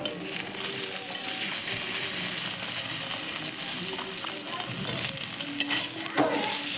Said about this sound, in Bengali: লালচে করে ভেজে তুলে নিচ্ছি।